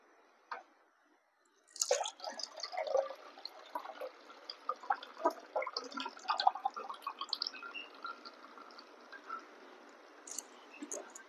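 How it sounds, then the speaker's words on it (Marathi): Cooked chana dal is strained over a plate for puranpoli, with wet dripping, squishing and spattering sounds in uneven bursts after a brief quiet start, heard close and alone. "ताट लावा आणि व्यवस्थित गाळून घ्यायचं।"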